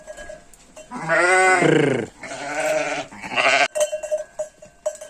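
Sheep bleating loudly and close by inside a barn, several long wavering calls one after another with brief pauses between them and faint clanking in the background.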